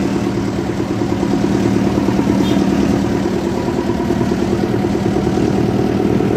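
Motorcycle engine running steadily and close, a continuous loud idle-like drone with mechanical clatter and no pauses throughout.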